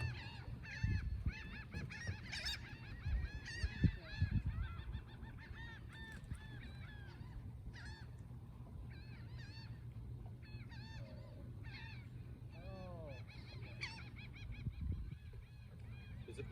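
Goose honking repeatedly, an injured bird hooked by a fish hook in its wing, calling in loud, ragged bursts close by, with people talking quietly in the background.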